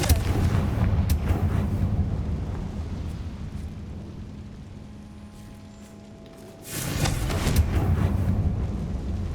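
In the video game Hogwarts Legacy, a Confringo fire spell blasts with a loud rumbling explosion. The boom fades over several seconds, then a second heavy blast roars up and lingers.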